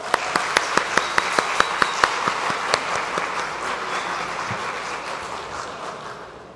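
A crowd applauding steadily for several seconds at a college pedagogy event, with a few sharp claps standing out at the start before the sound slowly fades.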